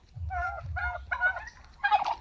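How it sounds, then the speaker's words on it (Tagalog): Turkeys on a farm with goats and geese give several short, close gobbling calls in quick succession, with low rumbling background noise and no voices. "Ay mga pabo."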